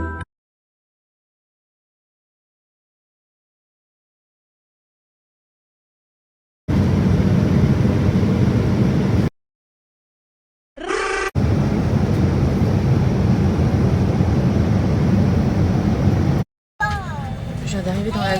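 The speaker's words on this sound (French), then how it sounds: "Je viens d'arriver dans l'avion." Steady, loud broadband rumble of an airplane cabin interior, arriving in long stretches broken by abrupt gaps of silence.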